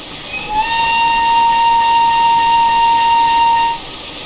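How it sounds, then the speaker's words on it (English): A loud, high steam whistle from an LSBC E2 0-6-0T tank shunting locomotive in Train Simulator Classic sounds in one sustained blast over a hissing background, then cuts off abruptly without a tail. "The whistle's not horrible. It has a very noticeable loop to it, and it has no ending whatsoever."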